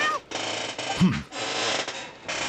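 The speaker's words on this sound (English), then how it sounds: "this chair does nothing but squeaking" A chair creaks and squeaks in a few drawn-out, grinding bursts with brief gaps between them, close to the microphone, over a steady background of game sound.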